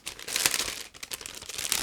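A resealable plastic bag holding a 1/48 scale aircraft model kit crinkles and rustles as it is pulled open, a close, continuous crackling that swells and fades in short bursts.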